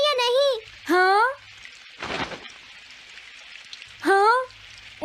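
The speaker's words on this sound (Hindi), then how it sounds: "ओ नहीं, काश ये बारिश जल्दी से रुक जाए" Steady rain falls under a Hindi-dubbed Doraemon cartoon scene, a continuous soft wash of drops heard between the voices of cartoon characters talking, fairly loud throughout.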